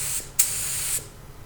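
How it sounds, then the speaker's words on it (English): A paint spray gun sprays plain water onto cardboard in a cabinet-building workshop, giving a short hissing burst followed by a longer, steady close-up hiss that cuts off sharply. "I'm also just spraying water here."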